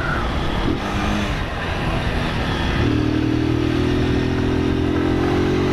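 Motorcycle ridden on a forest dirt road between Mairiporã and São Paulo, its engine droning steadily and close, with the pitch rising as gears shift partway through, over continuous road and wind rumble.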